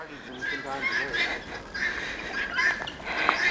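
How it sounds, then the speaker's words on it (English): Backyard chickens clucking and squawking close by in a garden, a busy cluster of overlapping calls with short repeated squawks, while a voice speaks at times. "So here's a little look at our chickens."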